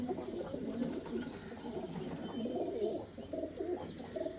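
Pigeons in a large collection of pigeon breeds, soft repeated cooing from several birds nearby, steady and unhurried with no talk.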